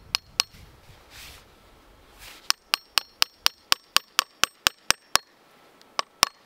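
A hammer drives a metal maple syrup tap into a tree in snowy woods: a few sharp knocks, a pause, then a fast even run of about a dozen ringing taps, close and loud.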